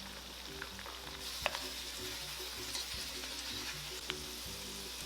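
Onion, ginger, scallions, cilantro and star anise fry gently in oil over low heat for zha jiang mian, a soft, steady sizzle with faint crackles and a low background hum, no talking.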